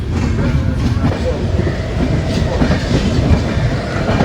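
The Sabari Superfast train, Coimbatore to Trivandrum, rolls into Thiruvananthapuram Central station with a continuous low rumble and rhythmic wheel clatter, close and fairly loud, no voices standing out.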